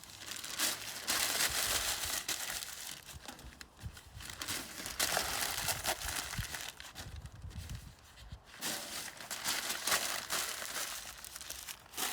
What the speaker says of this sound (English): scrunch up some newspaper, put it on the bottom